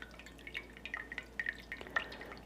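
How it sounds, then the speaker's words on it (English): Ice cold water poured into the spout of a cast iron coffee pot, heard as a quiet series of small trickling drips and bright splashes, faint and close, with no talk. "You just pour some ice cold water"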